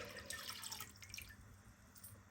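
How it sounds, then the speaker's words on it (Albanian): Cold water runs and splashes into a deep bowl, a soft steady trickle with small drips, faint and close with no voices. "në një enë të thellë hedhim pra 1 litër me ujë të ftoftë"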